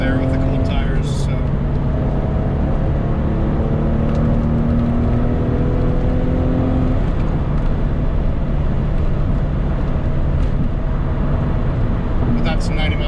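A 2000 Porsche 996 C2 Cabriolet accelerates up an on-ramp, its engine droning loud and steady with rising pitch sweeps through the gears and heavy road and wind roar throughout.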